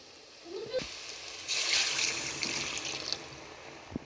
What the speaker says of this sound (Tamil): இப்போ புளி கரைச்சல் வந்து நம்ம சேர்த்துக்கலாம்